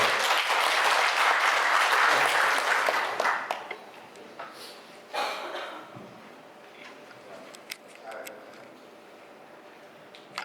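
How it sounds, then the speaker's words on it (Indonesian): An audience at a parish work meeting breaks into loud applause that swells for a few seconds and then thins into scattered claps and light handling noises. "Berikan tepuk tangan, Romo."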